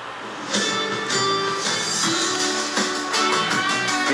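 Music plays continuously from television speakers at a moderate level, with a steady beat and layered instruments, no one speaking over it.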